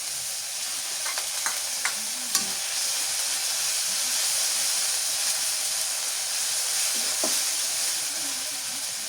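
Onion frying with ginger, garlic and cumin paste in hot oil, a steady close sizzle and hiss throughout with a few faint clinks of a stirring spoon against the pan, no voices.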